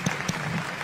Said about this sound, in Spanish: Este aplauso es para vos